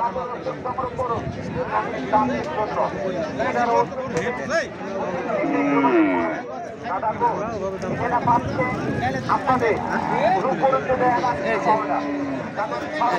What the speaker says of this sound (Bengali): দূর থেকে আসছে, অনেক দূর থেকে আসছে গরু।